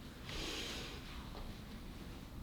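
A person draws in one audible breath through the nose while moving through a yoga flow, a soft airy rush rising quickly then easing off against quiet room tone.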